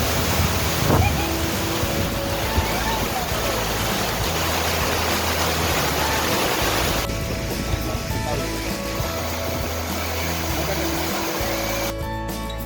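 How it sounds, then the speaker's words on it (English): Charlotte Lake in Matheran overflows during the monsoon into a mini waterfall, heard as a loud, continuous broadband rush of water that persists steadily throughout, with wind buffeting mixed in. "In monsoon, the Charlotte Lake overflows and creates this beautiful mini waterfall."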